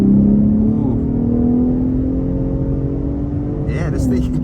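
A 2023 Ford F-150 Raptor with the high-output 3.5-liter EcoBoost V6 accelerates from a moving start, heard from inside as a loud, steady engine drone that rises in pitch, with a voice briefly over it near the end.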